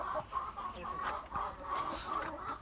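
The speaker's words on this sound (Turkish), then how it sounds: "Şu an için 4 tane tavuk var. Bir tane de horoz." An Ameraucana hen clucks in a chicken coop, giving a rapid series of soft, close, rhythmic clucks with a short higher note near the end.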